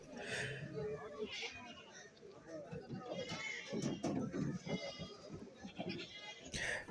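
Goats bleating at a livestock market in Kerala, several animals calling repeatedly at varying distances amid crowd noise, with someone talking over them throughout.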